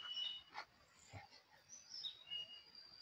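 Faint high chirps and tweets from birds in the distance at a cemetery, scattered through a quiet outdoor scene with light background noise.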